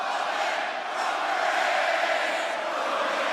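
A large wrestling arena crowd chants steadily through a Roman Reigns promo, a broad, even roar of many voices sustained without a break.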